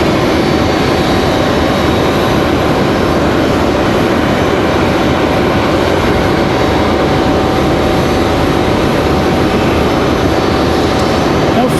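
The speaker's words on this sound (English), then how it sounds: "Nice, smooth, no fuss touchdown for American from Miami." An American Airlines jet from Miami touching down at Raleigh-Durham International, heard as a loud, steady roar of engine and rushing noise that holds evenly from start to finish.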